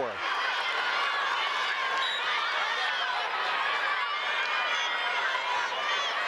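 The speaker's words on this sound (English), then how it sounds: "You definitely hear the crowds getting a little more restless." A restless crowd in a high school gym during a Fort Loramie versus Newark Catholic state semifinal volleyball match, a steady wash of chatter and scattered shouting filling the hall without letup.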